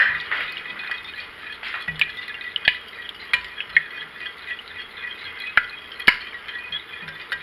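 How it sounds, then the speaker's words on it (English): An egg is whisked into almond milk in a bowl, a quick series of clinking strokes of utensil against the dish with soft liquid swishing between them, close and fairly quiet. "I'm going to mix that egg in there real well with the almond milk"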